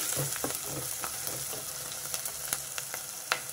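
Fenugreek leaves and onions fry in a pan, giving a steady low sizzle with a few soft clicks and stirring scrapes throughout. No one speaks.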